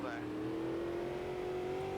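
The engine of a 2021 Brazilian stock car Toyota in the Automobilista 2 racing game drones in a steady, rising tone, climbing gradually in pitch as it accelerates, with a short tonal sweep at the start.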